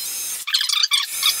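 A power drill bores a small pilot hole into a wall while a floating shelf goes up, giving one short, close burst of high grinding whir that stops briefly partway and then resumes.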